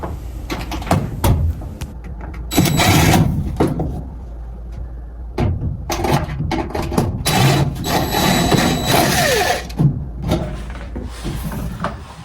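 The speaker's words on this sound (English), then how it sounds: "Now we're going to take the two screws off the back of the cover so we'll be able to get the cover off." Screws being removed from the back cover of an LG front-load washing machine, with repeated close clicks, taps and scraping handling noises in irregular bursts.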